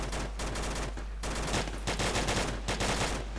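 Bursts of automatic gunfire crackle in the Arma 2 game, loud rapid shots in several volleys separated by brief gaps over a constant low hum.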